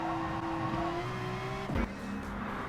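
A race car engine in Gran Turismo Sport drones and climbs in pitch, then drops abruptly as the gear shifts and revs settle lower, steady and close throughout.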